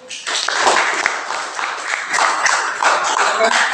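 A classroom group claps together for the first presentation group, a lively burst of many hands lasting several seconds, fairly close and loud, with no talking.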